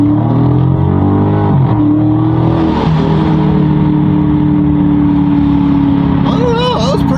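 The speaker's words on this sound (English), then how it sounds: "I'm going to punch it and then put it back in auto so the car shifts" A Dodge Scat Pack launched hard from 3,000 RPM in manual mode, its engine roaring loud and close as the revs climb steadily, with a gear change partway and a voice speaking over it near the end.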